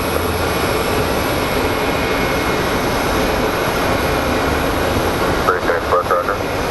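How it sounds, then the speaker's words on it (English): An MD-11 passes at Phoenix Sky Harbor airport, a loud continuous jet roar filling the scene steadily, with brief voice chatter near the end. "There's the MD-11."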